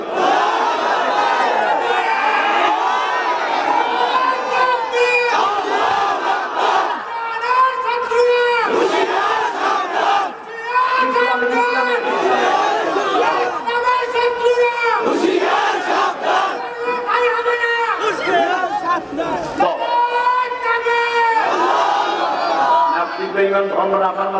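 A large crowd at a Bangladeshi religious sermon gathering chants in loud, rhythmic unison, answering a cleric's call with repeated bursts of massed voices that swell and break throughout.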